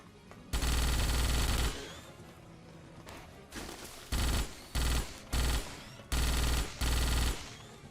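Automatic weapon fire in the 2006 video game Starship Troopers: a long loud burst, then a quieter stretch and several short rapid bursts in quick succession, heavy and close.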